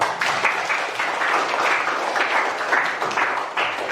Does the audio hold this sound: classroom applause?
yes